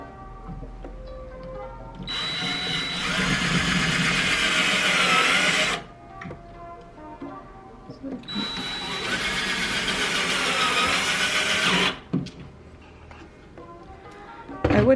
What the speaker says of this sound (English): we're about to drill this one